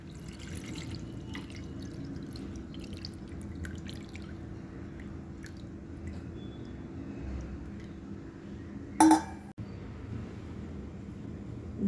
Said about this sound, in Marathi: गूळ विरघळल्यानंतर आपण ते दूध गाळून घेऊ